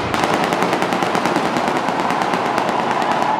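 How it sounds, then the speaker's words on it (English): Stage pyrotechnics fired in a test at a concert venue, a rapid, even string of loud cracking bursts like machine-gun fire running continuously for several seconds, close and with no voices. "Testing pyrotechnics."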